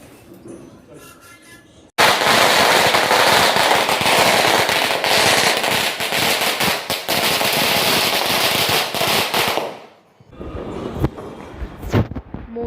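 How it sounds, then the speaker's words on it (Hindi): Diwali firecrackers bursting outside: after a quiet start, a sudden loud, dense barrage of crackling pops and bangs runs for about eight seconds, then dies away to scattered distant cracks, with a voice faintly audible near the end. "पटाखे फट रहे हैं"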